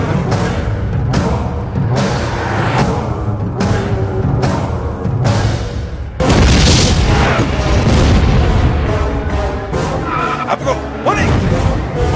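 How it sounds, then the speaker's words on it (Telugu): Bomb blasts in a Telugu action film go off in a repeated series of heavy booms, then a bigger, louder explosion follows, along with dramatic scoring and a sustained roar. "ప్రముఖ రాజకీయవేత్త మహేంద్ర నాయుడుపై ఆయన కుటుంబీకులపై ఒకేసారి బాంబు దాడి జరిగింది."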